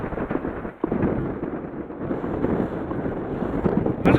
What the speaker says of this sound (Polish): Trochę wiatr wieje, ale mam nadzieję, że mnie będzie słychać.